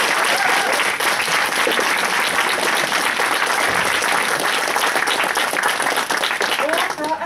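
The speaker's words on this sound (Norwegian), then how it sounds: "En applaus!" A crowd at a school political debate in Trondheim gives loud, dense, sustained applause that fills the room for over seven seconds and thins slightly at the very end.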